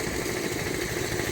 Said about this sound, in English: This is a Ford tractor.